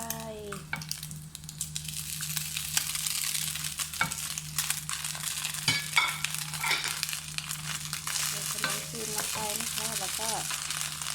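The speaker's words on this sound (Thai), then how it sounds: "จากนั้นเราก็ใส่ขนมจีนลงไปนะคะ ใส่ขนมจีนลงไป" Thai rice noodles (khanom jeen) are stir-fried with egg in a pan, a steady loud sizzle with scraping and stirring throughout and a faint voice near the end.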